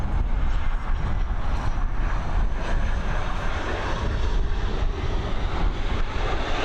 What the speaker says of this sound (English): Beautiful jet.